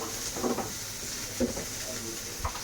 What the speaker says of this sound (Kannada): ಬೆಳ್ಳುಳ್ಳಿ ಈರುಳ್ಳಿ ಸ್ವಲ್ಪ ಕೊಬ್ಬರಿ ಒಂದು ಎರಡು ಟೊಮೊಟೊ ಹಾಕ್ಕೊಂಡು ಎಲ್ಲ ಫ್ರೈ ಮಾಡಬೇಕು